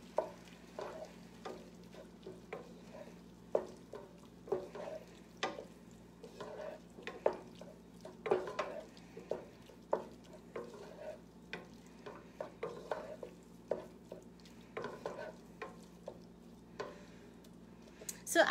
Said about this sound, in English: let me just stir this around.